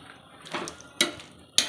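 Mushrooms frying in a pan for mushroom biryani: sharp metallic clinks and scrapes of a spatula against the pan, several distinct knocks over a soft background sizzle.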